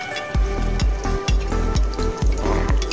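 A duck egg fries in oil over low heat, a continuous crackling sizzle broken by regular low thuds as hot oil is spooned over the yolk, close and fairly loud.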